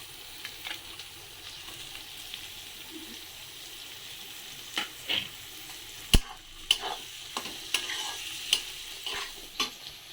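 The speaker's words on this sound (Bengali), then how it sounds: "এবার দেখো পেঁয়াজটা অল্প একটুখানি ভাজা যখন হয়েছে, ভাজা ভাজা হয়েছে, এবার আমি বিনস গাজর এগুলো দিয়ে দেবো সব" Beans and carrots stir-frying with onion in a pan for mixed fried rice: a continuous low sizzle broken by irregular scraping and clattering stirring strokes, growing busier in the second half.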